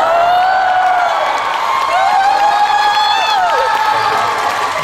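An audience at a rehearsal event breaks into loud, sustained applause mixed with cheering and whoops, a dense, continuous roar of clapping from a large crowd, with faint shouting and voices rising through it.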